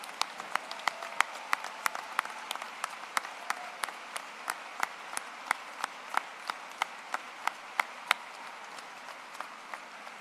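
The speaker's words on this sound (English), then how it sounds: "Let's give you all a round of applause for being part of the support network." Parents at a Mines convocation ceremony in August 2025 get sparse, steady applause: a thin stream of distinct claps at an even pace that carries on for about ten seconds in a large hall.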